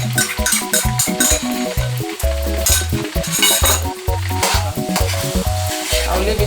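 Loud, close sizzling of tomato paste frying in a pan for Ghanaian shito pepper sauce, while a utensil stirs and scrapes in quick, uneven strokes.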